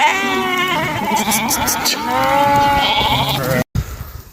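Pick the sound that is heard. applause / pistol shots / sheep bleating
sheep bleating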